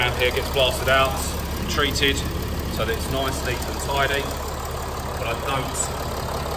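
A Mercedes ML350 engine idles smoothly and steadily as a low continuous rumble beneath someone talking close by.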